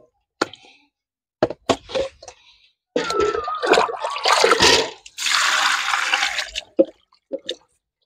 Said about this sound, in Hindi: अच्छा से दो तीन बार पानी में धो लेंगे